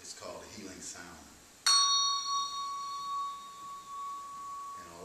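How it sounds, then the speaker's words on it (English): A Tibetan bell is struck once, producing a bright, clear ring that lingers and slowly fades with a sustained pure tone, following a stretch of quiet ambience. "all of the songs will have this Tibetan bell in them"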